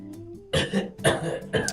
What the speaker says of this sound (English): I did just see you cough into that hand